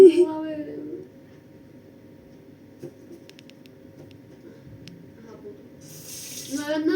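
Water runs steadily from a faucet into a sink for several seconds, a soft continuous splash. Voices talk just before and after it starts.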